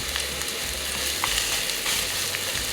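Chopped onion and garlic sizzle steadily in a little olive oil in a pan, a continuous close crackling fry with small pops and occasional stirring, no voices.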